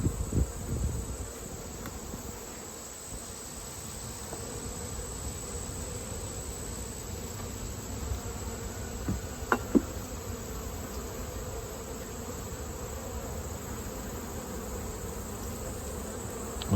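Honey bees hum steadily around an open beehive during a mite check, a dense, continuous close buzz with a few individual bees flying past nearer.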